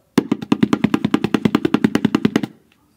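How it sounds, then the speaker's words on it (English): Muted, prickly tabla stroke played as a fast, even run of about twenty dry, clipped hits over two seconds, close and fairly loud, ending abruptly with a short fading tail. "This is a muted, prickly sound."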